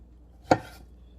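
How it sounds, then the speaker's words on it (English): A single knife cut through a strawberry lands on a cutting board as one crisp, close thunk in an otherwise quiet kitchen. "I'm just going to take the green off the top and then just cut them in half"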